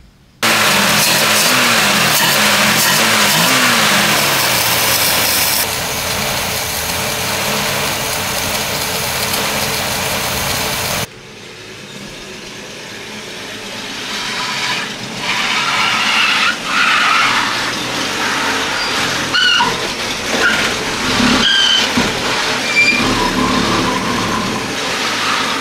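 A 1966 Ford Mustang's engine runs loud and rough, with a dense steady roar that drops in level partway through, then uneven revving and tire noise as the car pulls away.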